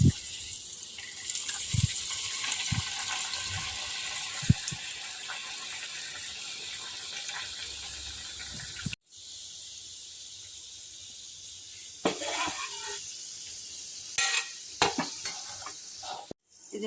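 Dal puri dough frying in hot oil with a loud, steady hiss and crackle for several seconds, broken by a brief quiet gap. After it comes softer sizzling with scattered spatters and clinks from handling.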